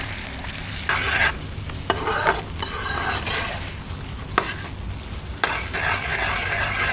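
Dragon fruit halwa being stirred in a pan, with a thick bubbling sizzle and repeated scraping strokes of a spatula, close and loud, no voices.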